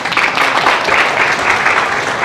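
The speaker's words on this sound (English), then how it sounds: "Give yourselves a round of applause." A luncheon crowd gives a sustained round of applause, loud and dense throughout, with no breaks in the clapping.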